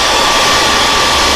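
A Conair 1875 hair dryer blows steadily at close range, used as a heat source to set paint, giving a loud, continuous broadband whoosh with no pauses and no voices.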